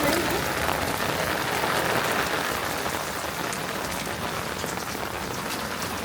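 Steady rain falls hard and close during a thunderstorm with no wind, a dense, even hiss of drops on surfaces that holds without a break and carries no speech.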